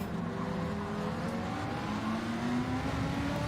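Racing car engines in Gran Turismo 7 drone steadily throughout a daily online race, a moderate continuous hum with rising pitch as cars accelerate under braking and overtaking, no talk over it.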